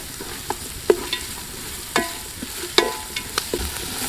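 Onions sautéing with salt in a pan outdoors, a soft low sizzle with scattered clinks and scrapes of a stirring spoon, the strokes spaced irregularly.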